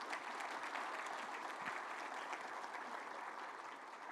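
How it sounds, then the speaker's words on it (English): At the 2021 NEO Rising Celebration, an audience gives a round of applause in a continuous, even patter of many hands clapping, heard faint and fairly distant. "How about a round of applause for those guys, right?"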